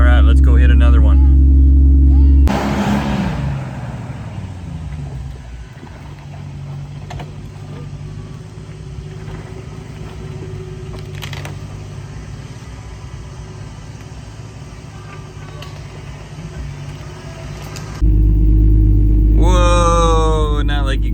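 Jeep Grand Cherokee ZJ crawling off-road at night, its engine rumbling low and steady with mechanical clunks and creaks, louder bursts of music or noise at the start and end.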